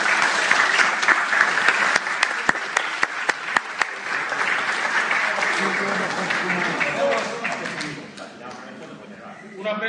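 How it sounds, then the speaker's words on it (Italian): Crowd applauds a prize winner at a prize-giving event in Morro d'Oro, with dense, sustained clapping and a few sharp individual claps that thin out and fade near the end, with voices mixed in. "di Natale Claudio, un applauso."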